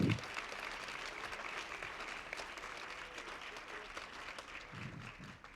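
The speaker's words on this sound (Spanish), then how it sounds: "Yo les voy a pedir por favor un aplauso para ellos que nos acompañan el día de hoy en el Presidium." An audience at a book presentation at the Guadalajara book fair applauds the authors seated at the presidium, steady many-handed clapping filling the room throughout, with a few low bumps near the end.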